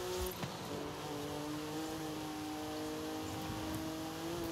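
A car races along a course in Forza Horizon 5, its engine holding a steady, fairly loud drone with a sustained tonal whine that shifts pitch slightly as it drives, with no talking over it.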